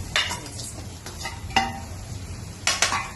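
Sliced onions going into a hot pan for a bitter gourd curry, with a few scattered sizzles and clinks as they land and get stirred, close and moderately loud, no talking.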